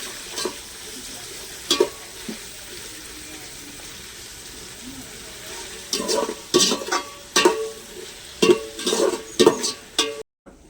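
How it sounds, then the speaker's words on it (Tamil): Chicken biryani masala frying in a pan, with a scattering of scraping stir strokes that grow busier and louder toward the end over a steady low sizzle. "கொஞ்ச நேரம் அப்படியே தீய எரிய விட்டு அதுக்கப்புறம் வதக்கணும்"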